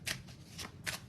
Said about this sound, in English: I'm going to shuffle here my other deck